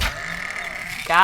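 A sheep bleats in a hunting and survival video game, a short harmonic cry rising loud near the end after a stretch of steady background game noise.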